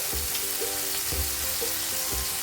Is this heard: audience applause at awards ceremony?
no